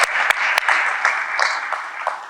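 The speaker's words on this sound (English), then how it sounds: "another round of applause, if we could, for Dee" Audience applause at a university alumni weekend event, a steady dense wash of clapping that holds for a couple of seconds with a few sharper claps standing out.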